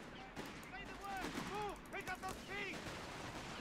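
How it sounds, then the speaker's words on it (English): Gunfire from an MG34 machine gun in a video game, sounding as steady bursts under other battle noise, with voices shouting nearby and some harmonic whistling tones mixed in. "An MG34 team has arrived. This man is MG spamming like crazy."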